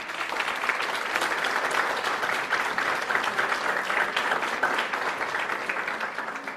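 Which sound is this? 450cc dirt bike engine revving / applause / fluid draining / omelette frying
applause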